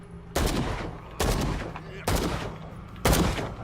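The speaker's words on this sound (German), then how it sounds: "Ja, wir schießen einfach mal alles über den Haufen" Gunfire in the video game Call of Cthulhu comes as four loud, separate blasts spaced about a second apart, each trailing off into a short echoing decay.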